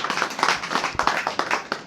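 Clapping from an audience at a memorial seminar welcoming a speaker to the stage, a quick uneven patter of many hands, fairly close and sustained across two seconds.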